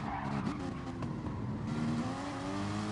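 Porsche race cars in Gran Turismo on the Dragon Trail circuit, engines droning and shifting pitch as two cars run side by side, a steady mid-level roar with brief tire scrubbing.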